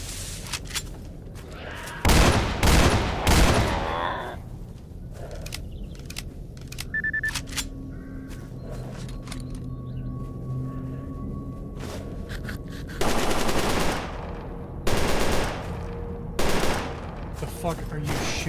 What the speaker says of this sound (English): The fuck are you shooting at?